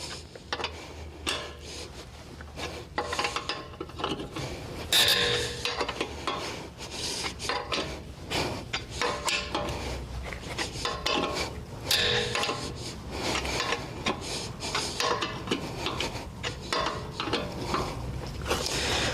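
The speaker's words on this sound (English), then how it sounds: "Grab our tire iron one more time, and we're going to give it a good tightening this time." A tire iron tightens lug bolts on the spare tire of an Audi Q5, giving repeated metallic scraping, ratcheting and clanking up close, with steady rubbing between strokes.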